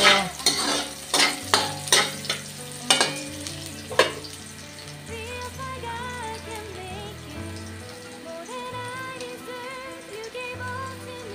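Ginger is stirred in a hot pan for duck adobo, with a series of sharp scraping stirs over a crackling sizzle at first, then steady quieter frying continues alone.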